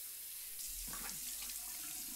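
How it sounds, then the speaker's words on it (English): A bathroom tap runs steadily while someone rinses their face, a close, continuous rush of water with splashing as hands scoop and wash, no talk. "I'm gonna rinse my face 12 times."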